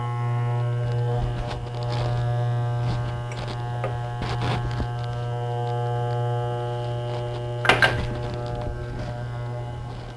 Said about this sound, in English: ensure that the clipper guard doesn't come off while I'm cutting my hair